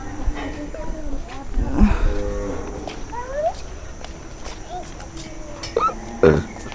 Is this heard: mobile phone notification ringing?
no